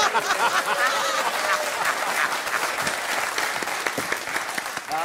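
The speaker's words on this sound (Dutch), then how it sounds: "Ja, even klappen, jongens." An audience bursts into loud, close applause at a Dutch comedy show, thick rapid clapping with a few chuckles and cheers mixed in, continuing strongly throughout.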